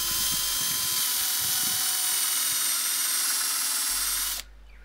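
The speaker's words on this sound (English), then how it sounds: "Use a 5mm bit in your drill to make a hole about 2 to 3mm deep" An electric drill with a 5mm bit boring into the end of a metal rod, a loud, steady high whine running unbroken for about four seconds before cutting off abruptly.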